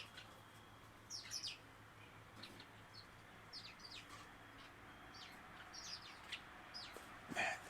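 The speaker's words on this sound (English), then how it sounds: "There's 50 birds." A large flock of small birds chirps and tweets in scattered bursts over a steady background hum. The calls sound moderately distant and come in irregular clusters, with one louder cluster near the end.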